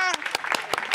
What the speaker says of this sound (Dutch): Mevrouw, u klapt uw handen stuk bijna.